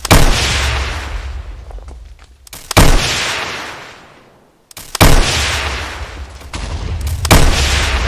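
Support gunner firing in modded Minecraft, loud bursts of gunfire in several sustained volleys separated by short pauses, each volley opening with a sharp crack and rolling on as a dense roar.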